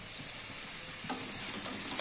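Raw banana pieces fry in a pan with a bright, even hiss and crackle, and a faint stirring scrape comes through partway.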